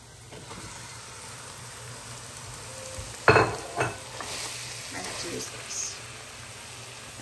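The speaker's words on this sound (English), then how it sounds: "now we're gonna add our meat, our ground sirloin and hot Italian sausage" Ground sirloin and hot Italian sausage hit a hot pan with pancetta, bursting into a sudden loud sizzle that settles into steady frying with a few clanks, while a person talks.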